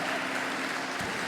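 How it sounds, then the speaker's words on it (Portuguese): A church congregation claps together in a dense, steady wash of applause that fills the space from start to finish, with a faint tonal hum underneath. "Você pode aplaudir ao Espírito Santo nessa noite."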